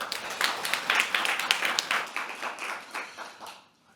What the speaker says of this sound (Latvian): Ar aplausiem sagaidām!